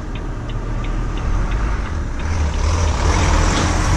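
A cattle lorry reversing in Bottesford, its repeating reversing beeps chirping evenly over a heavy diesel rumble that grows slightly louder as it maneuvers.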